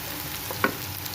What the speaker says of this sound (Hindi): तो इसके अंदर मैं ये टमाटर ऐड कर देती हूँ।